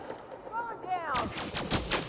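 Gunfire in the space combat video game Elite Dangerous: several sharp, loud bursts of weapon fire in quick succession, following a short stretch of swooping, wavering tones.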